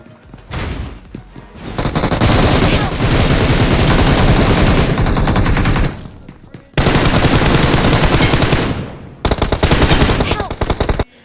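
Gunfire in a BGMI battle royale fight: loud bursts of rapid automatic fire in long volleys, broken by short pauses and one gap near the six-second mark, with overlapping shots throughout.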